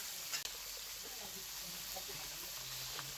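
Flat beans are lightly sautéed in a pan with a soft, steady sizzle and occasional stirring scrapes, quiet and close, including one brief sharp clack near the start.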